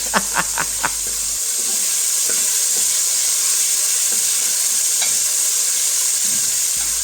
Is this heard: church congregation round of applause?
no